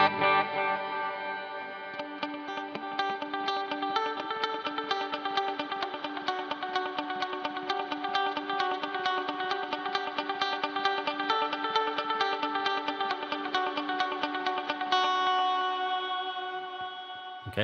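A sustained electric guitar chord rings out, washed in heavy reverb and echo that smear the notes into a dense, shimmering wall of sound.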